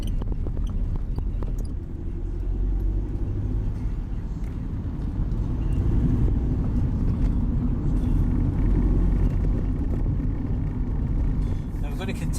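A vehicle driving along a city bus route in Glasgow, with a steady low engine and road rumble beneath someone speaking continuously.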